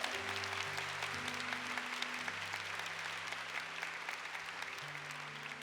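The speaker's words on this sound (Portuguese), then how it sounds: "Aplauda o nome de Jesus." Steady applause from a church congregation fills the space, continuous and fairly even, with sustained musical tones playing underneath.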